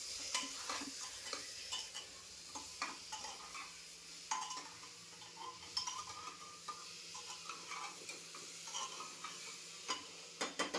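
Chicken pieces fry in a spicy black masala in a pan, a soft sizzle under repeated scraping and clinking of a spoon against the vessel, fairly quiet and close.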